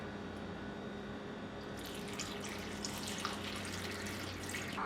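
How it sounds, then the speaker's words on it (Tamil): A cup of water is poured into a pan holding cinnamon, cloves, cardamom and cashews. A soft splashing rush starts partway through and continues faintly to the end, with no talking. "இதில் 1 கப் அளவுக்கு தண்ணி ஆட் பண்ணிக்கோங்க."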